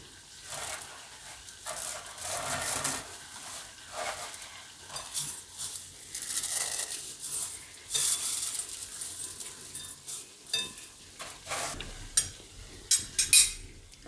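Food frying in a pan is stirred with a utensil, producing soft sizzling and intermittent scraping and clinking bursts at a low level, with brief pauses between strokes.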